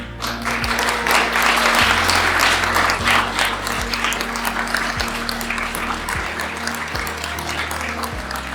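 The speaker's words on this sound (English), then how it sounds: "Give them a round of applause." Guests at a wedding ceremony in Auburn Hills, Michigan applaud the couple, loud close clapping that swells early and then settles into a steady wash, over a low humming drone with faint periodic tones.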